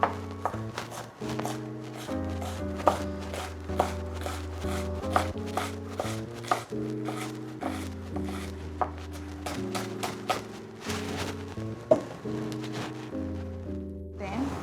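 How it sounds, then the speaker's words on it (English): Onion being chopped with a knife on a board, a steady run of sharp taps set over continuous background music that carries through the whole stretch. "So I'm gonna start to chop a little bit of onion."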